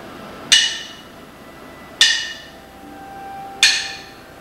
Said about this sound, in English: With each hammering blow,